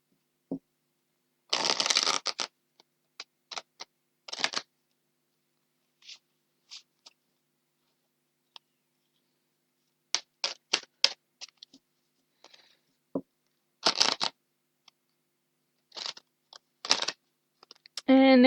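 A deck of tarot cards is shuffled close up in short bursts of riffling and soft flicking clicks, separated by quiet pauses, with occasional brief sounds of a voice.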